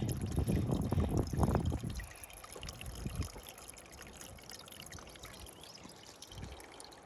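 Stream water trickling and pouring through a hanging filter bag outdoors on a hiking trail, a close splashing pour for about two seconds that fades to a faint steady trickle.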